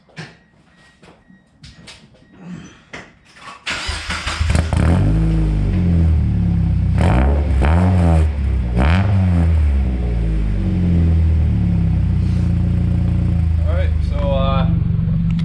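Mazda Miata with its muffler deleted cranks over, catches and idles loudly, with several throttle blips rising and falling in pitch over the steady rumble; quiet handling noises precede the start.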